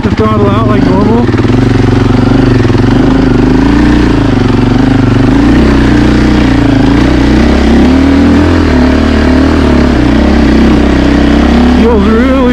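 A 2024 Husqvarna FE450 motorcycle engine running loud and close under throttle, a sustained buzzing drone with rising and falling revs, while the rider talks over it.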